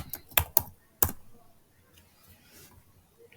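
A few quick keystrokes on a computer keyboard, sharp close clicks in a short burst, then near silence with one final tap.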